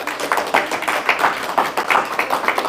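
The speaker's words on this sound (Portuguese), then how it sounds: "Salva de palmas para Jesus." A church congregation claps together in a brisk, dense burst of applause, many hands slapping in quick irregular rhythm at close range with no talking over it.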